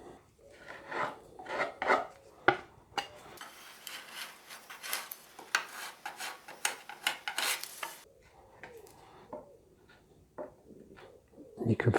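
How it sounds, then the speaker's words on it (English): Hand scraper rasping excess filler off a guitar body for a TV yellow Les Paul Junior, in a run of short scraping strokes with quieter gaps, close and fairly loud. "I've scraped as much as a dare off"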